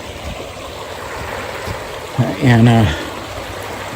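Beaver Creek in Beaver Creek State Park flows with a steady, soft rushing wash throughout, and someone speaks briefly near the end.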